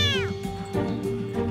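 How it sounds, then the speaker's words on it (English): A scared kitten meows repeatedly, loud and close, in several short cries. "couldn't stop meowing"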